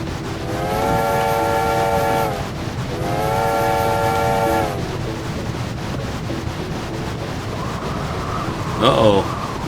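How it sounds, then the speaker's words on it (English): A video game train rolls along the track with a steady rumbling drone, and its whistle blows twice in long, loud blasts, with a brief clank near the end. "blow the whistle to clear the way"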